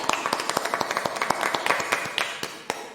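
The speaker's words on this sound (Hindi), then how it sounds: "जीवित वचन में जाने से पहले जोरदार तालियों से स्वागत" Enthusiastic clapping from a church congregation during a Hindi prayer service, a burst of sharp, uneven claps spread over a few seconds with no talking.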